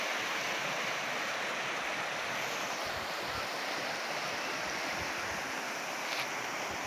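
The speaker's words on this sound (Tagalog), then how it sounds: "Ito naman po ilog." A river in Albay flows with a steady, full rush of water that stays close and constant throughout, with no talk.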